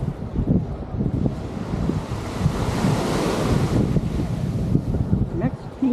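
Surf and gusty wind on Waikiki Beach in Hawaii, with waves washing steadily and wind buffeting the microphone, loud and continuous.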